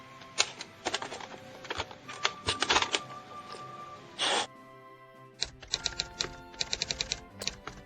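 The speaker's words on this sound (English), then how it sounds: "This is a typewriter." Typewriter being typed on, bursts of sharp mechanical key strikes in quick irregular runs, with a brief rushing carriage or mechanism noise midway, close and fairly loud.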